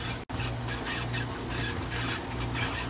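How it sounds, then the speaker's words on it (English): A koi pond pump starving for water as ice on the frozen pond has lowered the level churns with a rough, gurgling, sputtering rumble, steady and fairly close, with one brief dropout near the start and no talking. "That sound you hear is the pump starving for water."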